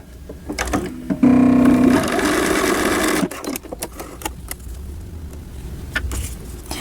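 A sewing machine runs a line of stitching along a sweater hem in one loud, steady burst of about two seconds. Lighter handling clicks and fabric rustle follow close by, and no one speaks.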